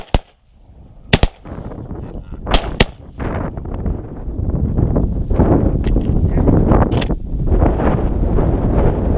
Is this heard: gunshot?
yes